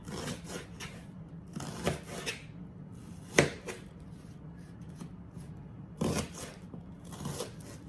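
A knife cuts zucchini into big chunks with a few separate, crisp chopping strikes spaced seconds apart, over faint rubbing and background noise.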